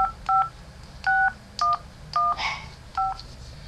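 Six short two-tone keypad beeps, evenly spaced, dialing a phone number with brief pauses between presses.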